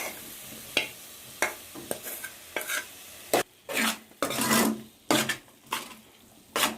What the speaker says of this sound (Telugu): గంటితో తిప్పితేనే కలుస్తుంది.